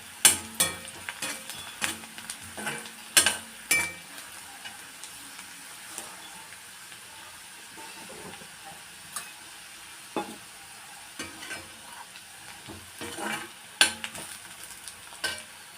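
Onions or aromatics sauté in oil in a pan while preparing mutton gravy, a steady soft sizzle broken by sharp scraping and clinking strokes of a spoon stirring against the pan, with no talk.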